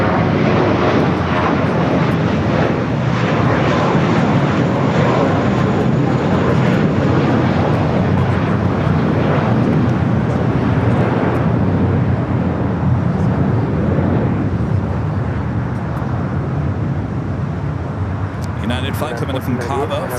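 A United Airbus A320 arriving at LAX as flight 1285 from Cabo, a continuous loud jet roar with a broad rushing hiss, fairly close and steady, easing slightly toward the end.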